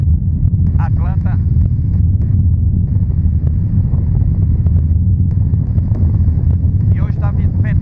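Heavy, continuous low buffeting roars across the microphone like strong gusting wind in Atlanta, with voices talking briefly in Portuguese over it.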